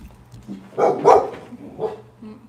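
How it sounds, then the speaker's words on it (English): Dogs in protective mode bark loudly and close by: a quick pair of sharp barks followed by a softer one, with no talk over them. "My dogs just go into protective mode."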